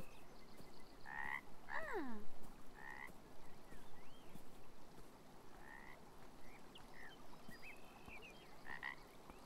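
A frog croaks near a bridge in the video game Beyond Eyes, giving several short, sharp croaks and chirps at moderate volume over a soft background of trickling water, with no talk.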